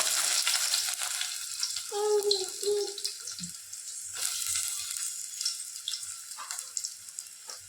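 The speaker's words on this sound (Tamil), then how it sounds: "வெந்தயம் பொரியுது" Fenugreek seeds frying in hot oil at the start of a Thakkalai-style fish curry, a steady crackling sizzle that runs throughout at close range, with a brief tonal sound partway through.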